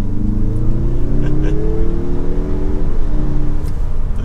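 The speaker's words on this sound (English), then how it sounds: "It is a peppy four-cylinder motor, and it's a big four-cylinder." A 2024 Mazda 3 hatchback's 2.5-liter turbo four-cylinder pulls hard under acceleration, a steady loud engine drone with rising harmonics that climb and then settle, heard from inside the car.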